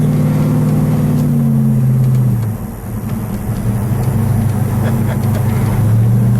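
A 1966 Dodge Charger with a 426 Hemi V8 idling and revving, a loud close rumble that dips briefly before rising again.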